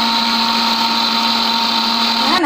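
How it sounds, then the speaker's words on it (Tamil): A mixer grinder blending mint, ginger and lemon juice whirs steadily at high speed, a loud continuous motor drone with a shift in pitch as it winds down at the end. "இது நம்ம மிக்ஸி ஜாரில் போட்டு நல்லா ஊட்டி எடுத்துகிட்டு வரலாம்"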